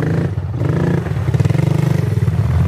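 A quad (ATV) engine running steadily under held throttle, a loud, close, buzzing drone with a rapid pulsing rhythm and slight rises in revs.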